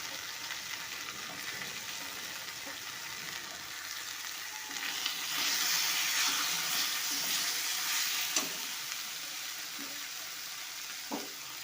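Chopped tomatoes sizzle in a hot pan, a steady close frying hiss that swells briefly as the pieces settle, with a few light clinks and no talk.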